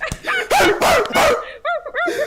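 A man imitates a dog with loud, rapid voiced barks and yelps in a quick burst, followed by several short, higher whooping yips.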